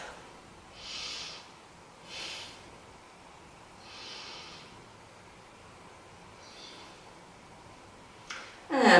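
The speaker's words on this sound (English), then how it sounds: "Breathe into the belly, below the navel, round it out as big as you can. Take 3 big breaths." Slow, deep belly breaths during a beginner yoga session, with soft, airy inhales and exhales repeating every couple of seconds, faint and close, ending in a louder rustle.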